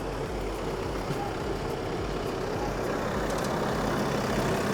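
An LS tractor engine drones steadily throughout, a low continuous rumble close by with no voices.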